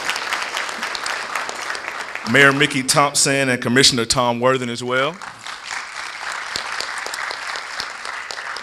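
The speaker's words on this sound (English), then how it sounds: "We can go ahead and give them a round of applause." Steady audience applause in a theater at a production, running throughout while someone speaks over the clapping through the middle.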